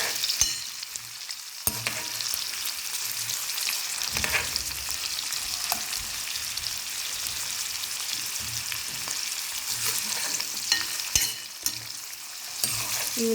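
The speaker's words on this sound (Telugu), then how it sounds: "ఈ ఉల్లిపాయలు అనేది మనం కొంచెంసేపు వేగనిచ్చుకుందాం" Sliced onions frying in a pan for a potato curry, a steady close sizzle with scattered pops and occasional stirring scrapes running throughout, with no voices.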